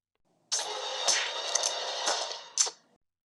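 Kill sound effect from the video game Among Us, a sudden loud burst with sharp stabbing accents that runs for about two and a half seconds before fading out, heard alone.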